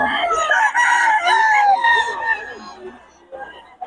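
Stag roosters crowing at a Bocaue market, several overlapping loud crows close by, falling into clucks and fading toward the end.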